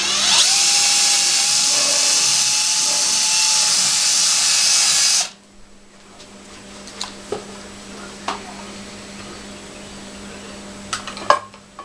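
A power drill whirs loudly and steadily for about five seconds, drilling a hole for a pad eye while installing an anchor trolley, then stops, followed by quiet tool handling and a few light clicks and taps.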